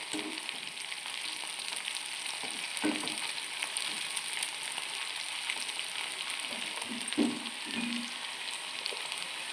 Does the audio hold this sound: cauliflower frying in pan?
yes